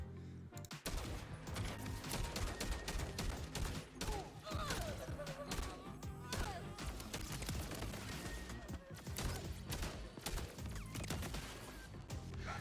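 A Stopgap sniper rifle firing rapidly in a Borderlands boss fight, a dense run of sharp repeated shots layered over busy game effects and clatter, loud and continuous throughout.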